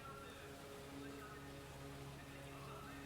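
Steady rain patters down in a quiet city alley, a soft continuous wash with faint low city hum beneath and no voices.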